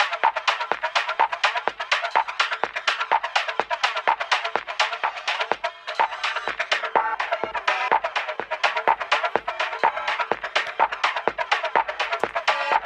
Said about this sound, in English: you can hear the drums going through the guitar pedal.